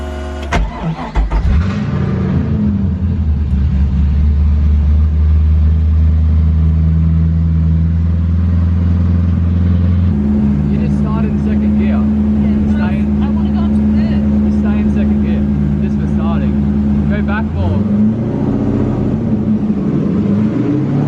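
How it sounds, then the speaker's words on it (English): A car doing a standstill skid in a shed, the engine starting and revving hard through sustained high-revving stretches with a shift in pitch midway, loud and close, with tyre noise and voices talking over it. "I'm going to do like a practice skid before we both do a skid together, because I have not done a standstill skid in a long time."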